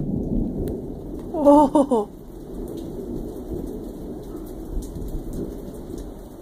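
Steady rain falls outside in a yard, a constant close hiss of drops, with one brief startled exclamation from a voice early on.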